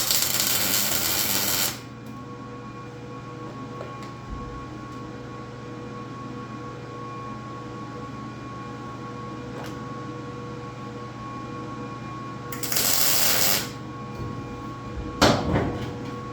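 Welding tacks on the rear cage tubing of a J10 Mule jeep, close to a window: two loud crackling hiss bursts about a second long, separated by a long quiet hum, then a brief sharp third tack.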